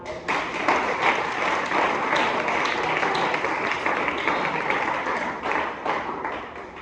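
A church congregation applauding, dense sustained clapping from many hands with a few taps and thuds, loud and continuous before tapering slightly at the end.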